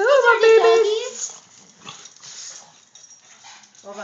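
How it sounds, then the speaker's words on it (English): Pet dogs at home whimper and yip in a high, wavering run of cries, followed by quieter snuffling and a short bark near the end. They are close and fairly loud. "and those are the dogs."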